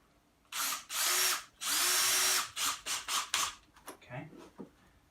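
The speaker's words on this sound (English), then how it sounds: "what I'm going to now do is put a couple of screws into" A power drill driving screws into pine floorboards during floor laying, with several loud close bursts of whining motor, the longer runs sustained and the later ones short and choppy as each screw seats.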